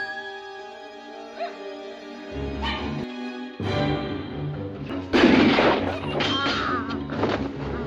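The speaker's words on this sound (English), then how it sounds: "Dog must have seen him. He's got to be why he's barking." A dog barks repeatedly in a horror scene, loud yips and bow-wows over a droning musical background, with a sudden crash-like burst midway.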